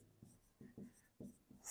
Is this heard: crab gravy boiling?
no